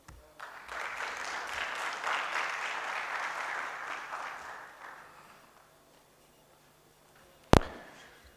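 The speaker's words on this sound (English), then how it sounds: "Another round of applause to all our presenters." Applause from an audience fills the room for several seconds, then fades out, followed by a single sharp knock.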